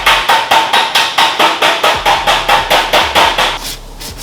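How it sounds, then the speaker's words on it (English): Body filler on a 1973 Pontiac Trans Am part is sanded by hand: about sixteen loud, even rasping strokes in a quick steady rhythm, fading near the end. "I'm just giving it a quick coat of body filler, and I'm sanding it down to get a nice smooth finish."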